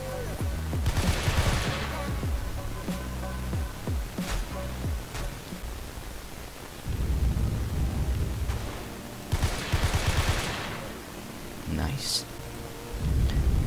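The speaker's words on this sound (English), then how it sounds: "Okay, stop shooting at me." Repeated bursts of rapid gunfire, including an FN FAL rifle, in the Roblox shooter game Oof Brigade: dense volleys that come and go, with talking between them.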